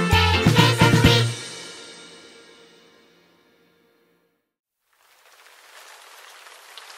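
A musical chord rings out and slowly fades to silence, then a soft, steady patter of rain begins.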